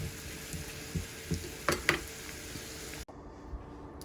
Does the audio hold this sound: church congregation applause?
no